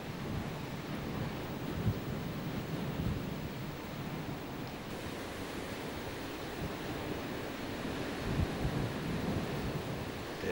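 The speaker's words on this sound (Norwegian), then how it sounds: "Store bølger går mot land, som de prøver å rive i filler alt som er langs stranda." Large storm waves roll onto the shore at Lista on the Norwegian coast, a constant low roar of surf and wind with occasional heavier surges.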